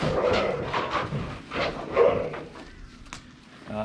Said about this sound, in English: It's a dog attacking my cat.